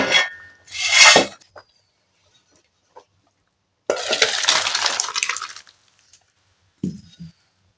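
Cooked curry with soft eggplant is poured out of a pot. Short bursts of wet sloshing and metal scraping come close by, separated by quiet gaps. The longest pour lasts about two seconds, ending with faint clinks.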